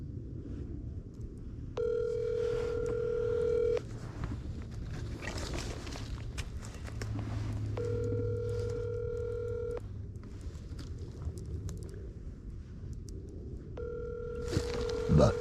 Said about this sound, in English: I ring my friend up.